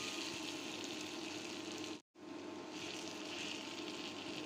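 Banana mash dropped into hot oil with fried onion, crushed garlic, green and dried chilies, giving a steady close sizzle with a brief break midway before the frying hiss resumes.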